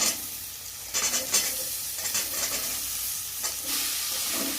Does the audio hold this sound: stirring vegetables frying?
yes